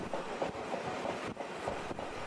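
A steam train crosses Norway's high mountains on the Bergen Railway, giving a steady rumbling roll with regular clickety-clack beats from the wheels, continuous and moderately loud with no voices.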